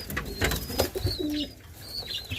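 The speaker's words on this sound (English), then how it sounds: "Just a quick look at the fantail pigeons." Fantail pigeons coo softly at close range, giving several low, throaty calls in a row over faint background rustling.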